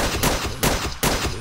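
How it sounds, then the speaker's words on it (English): Three sharp, evenly spaced gunshots ring out in a Minecraft Walking Dead mod survival game, each a loud broadband crack with a short tail, close and with no talking over them. "I don't know why I'm still shooting these scrubs"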